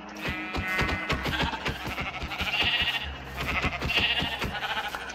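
Sheep in Minecraft Bedrock bleat in two drawn-out cries over a busy run of rhythmic clicking and tapping game sounds, clear and fairly close.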